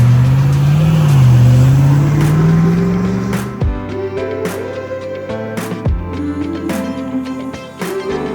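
A 1997 Land Rover Defender 110 fitted with a GM 6.2 litre LS3 V8 and six-speed automatic revs up loud and close, the pitch rising steadily, then settles into a throaty idle broken by a few sharp knocks.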